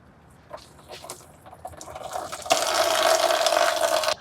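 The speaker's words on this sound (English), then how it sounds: "So with our radiator draining" Coolant drains from the radiator of a 2008-2013 Nissan Rogue. A few light drips and clinks give way to a steady, splashing stream that pours continuously close by.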